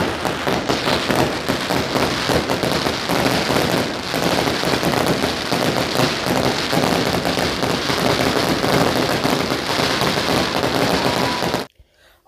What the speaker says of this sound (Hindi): सेंटर में आतिशबाजी होने लगी